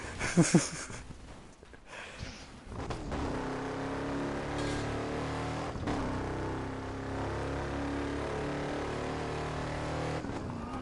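A car accelerating in the Burnout Paradise video game, its engine droning steadily with rising and falling revs, a few sharp transient hits along the way, and a brief voice near the start.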